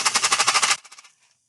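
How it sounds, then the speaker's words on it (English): Small dried pasta rattling inside a plastic egg shaker, a quick burst of rapid, regular shakes up close that stops and fades into a brief scatter of settling rattles. "So I have these smaller pasta. And if I put it into this egg, it's going to sound like this."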